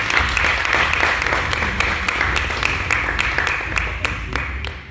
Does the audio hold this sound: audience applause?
yes